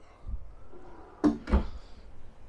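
Two quick drawer slides in the kitchen of a 2022 Reflection 297RSTS travel trailer, sounding as close, sharp knocks about a quarter second apart, with a softer bump just before and quiet room tone around them.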